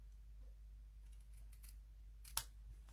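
Scissors trimming paper card stock for a handmade Christmas card, heard as a few quiet snips followed by one sharp, close cut in an otherwise quiet room.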